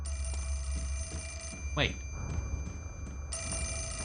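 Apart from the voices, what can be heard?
phone ringing in the video game Fatal Frame: Mask of the Lunar Eclipse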